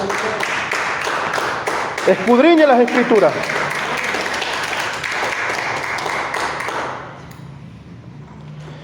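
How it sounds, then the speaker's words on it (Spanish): A church congregation applauds in a broad, steady patter beneath a preacher's voice, then fades out near the end, leaving quiet room tone. "Dele un fuerte aplauso"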